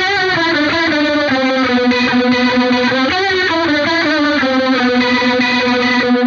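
Distorted electric guitar playing a riff an octave lower through a rotary effect; a continuous, loud, close, swirling melodic line with sustained bends and no talking.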